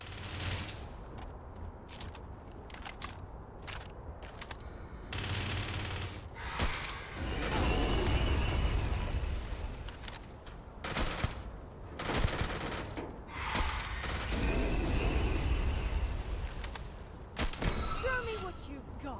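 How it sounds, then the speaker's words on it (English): Automated ship turrets in the Starfield video game fire in bursts of rapid gunfire, loud and close, with heavy space-combat explosions and rumble in between, under occasional talk. "Can we just turn the automated turrets on my ship?"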